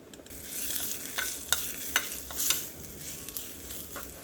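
Oggarane tempering for bassaru and beans palya sizzles softly in a pan, with a steady low frying hiss and several sharp spoon-against-pan clinks as it is stirred.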